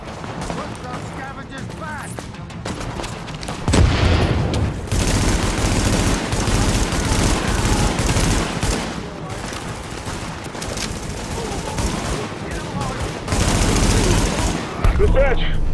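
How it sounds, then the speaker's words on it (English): Grenade blasts and rapid gunfire in the shooter game Tom Clancy's The Division, Dark Zone, a loud dense barrage of shots and explosions with heavy booms near 4 and 13 seconds, voices calling out through the chaos. "Grenades everywhere."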